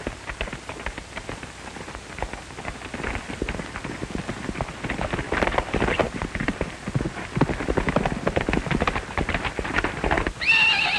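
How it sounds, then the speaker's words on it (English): A horse, a wild white stallion in a Western film scene, gallops with rapid, loud hoofbeats and lets out shrill neighs toward the end, with a noisy outdoor wash behind it. "Throw me your horse, Chuck."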